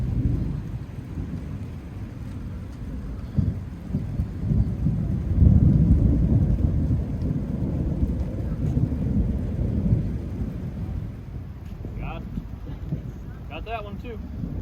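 Steady rain and rumbling thunder during a storm on an island, with a broad low roar throughout and a louder swell midway; people talk and exclaim over it.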